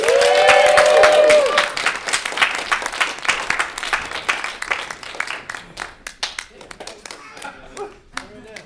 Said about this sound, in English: round of applause for Dutch Angles!